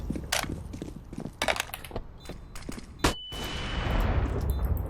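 Rapid gunfire from the video game CS:GO, sharp repeated shots in quick bursts, loud and close, followed by a sustained rushing noise after a final heavy blast.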